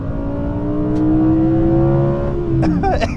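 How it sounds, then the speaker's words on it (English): A naturally aspirated V10 in a 2021 Audi R8 revs loud and close, its harmonic howl holding and climbing slightly before easing off, with no talking over it. "A V10 howl is so distinctive, and it's just something that makes this car."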